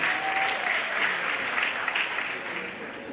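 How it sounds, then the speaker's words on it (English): Sustained, fairly loud applause fills a university hall at a Nigerian scholarship event, with a faint voice briefly audible early on. "A round of applause for her again."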